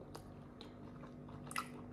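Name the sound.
chewing crunchy shrimp sushi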